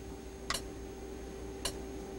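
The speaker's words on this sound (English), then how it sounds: "We're going to get a metronome countdown." Metronome countdown from a MIDI music editing setup: two sharp, faint clicks about a second apart over a quiet steady background hum.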